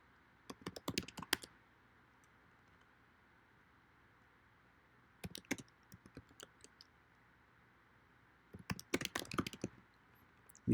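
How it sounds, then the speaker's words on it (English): Typing on a computer keyboard while entering a finance company's address, in three separate bursts of quick key clicks with quiet gaps between them, close and fairly soft. "You would type the address."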